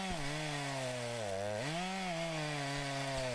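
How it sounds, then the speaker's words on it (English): A well-used Stihl-style 590 chainsaw with a dull chain cuts through ash wood outdoors, its engine whining steadily, then bogging down and rising again under load before it settles into a constant buzz. "that saw just cuts right through this ash like nothing"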